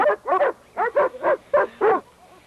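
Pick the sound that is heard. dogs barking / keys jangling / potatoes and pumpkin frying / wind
dogs barking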